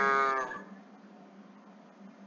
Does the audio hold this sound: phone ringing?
no